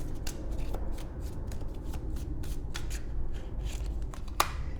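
Tarot cards being shuffled and drawn by hand, a close run of crisp riffling flicks and card snaps ending with one sharper slap.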